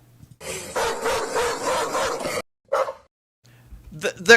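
Three sharp dog barks from a stock sound-effects library, a long volley of rough barking followed by a short single bark after a gap, then a final yelp, close and loud with no talking.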